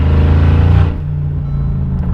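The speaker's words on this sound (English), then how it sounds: "the noises this car makes is just delicious" A loud, close engine rev from a McLaren 600LT with Pure Turbos stage 2 turbos and DME tune, a raspy burst that drops sharply about one second in, settling into a lower idling rumble.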